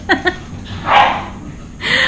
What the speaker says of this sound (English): I don't know if you guys can hear in the background my dogs playing.